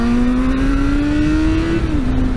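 A Yamaha FZ6 motorcycle engine revs loud and close after a downshift, its steady tone climbing smoothly before dropping slightly, with strong wind rumble underneath.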